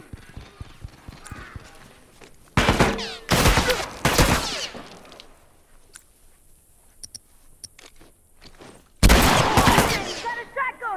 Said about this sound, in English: Watch it, he's got a shotgun.